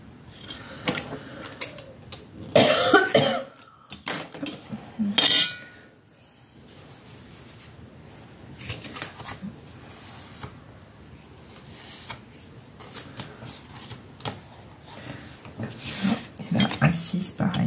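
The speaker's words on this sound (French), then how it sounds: "je vais couper ce qui dépasse" Paper trimmed for a scrapbook pocket, close crisp scissor snips and paper rustles in uneven bursts with handling clatter between them.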